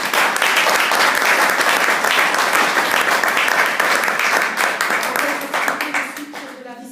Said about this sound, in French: On applaudit la ministre.